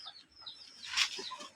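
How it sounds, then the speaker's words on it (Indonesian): A chicken clucks and calls in a few soft, rising notes at moderate distance, with no voices present. "Kemudian selanjutnya yang akan kita amati yaitu ciri pada makhluk hidup pada ayam."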